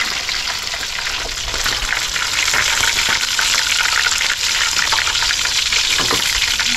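Milkfish sizzles and crackles steadily in hot oil, a loud, continuous frying hiss that rises slightly partway through, with no talk over it.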